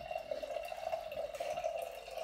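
Beer, a Pilsner Urquell-style lager clone, pours steadily into a glass, a continuous liquid stream heard close and alone.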